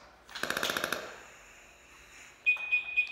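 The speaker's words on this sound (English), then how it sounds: "It's gonna make a bunch of really funny beeping noises and some rattles." A rapid rattling burst followed by a fading hiss, then a few sharp electronic beeps at the end from a firefighter's breathing apparatus backpack; fairly quiet, no voices.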